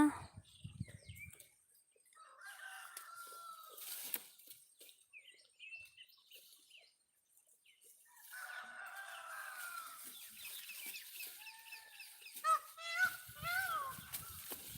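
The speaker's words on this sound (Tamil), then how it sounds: "புளிய மரத்தில் மயில் கத்துது பாருங்கள்" A flock of peacocks calls from a tamarind tree out in the open during a daytime goat-grazing walk, with several loud, ringing cries in bursts mixed with wind and other outdoor noise.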